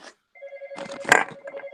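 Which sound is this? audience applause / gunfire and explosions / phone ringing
phone ringing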